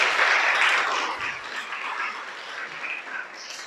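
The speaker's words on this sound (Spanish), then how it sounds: "Dale un aplauso a nuestro Salvador." A church congregation claps for the Saviour during a sermon, a moderate burst of applause that starts strongest and gradually thins and fades over a few seconds.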